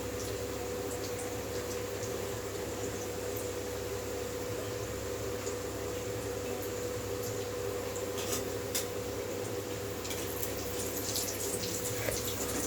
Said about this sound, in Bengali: রুটিগুলিকে এইভাবে আস্তে আস্তে ভেজে নিচ্ছি